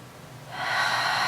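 A single deep breath taken during a yoga session, starting quiet and swelling into a breathy, airy rush that holds steady to the end, close and fairly loud with no talking.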